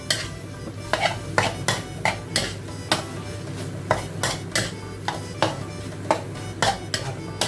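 Curry paste stir-fried with long beans, kaffir lime leaves and pork cracklings in a pan, heard as rhythmic, close metal scrapes and clinks of a spatula roughly twice a second over a low background sizzle.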